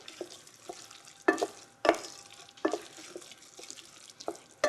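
Spelt porridge with raisins stirred in a pot, a spoon scraping and knocking against the sides in several distinct strokes over a soft wet background, close and fairly quiet.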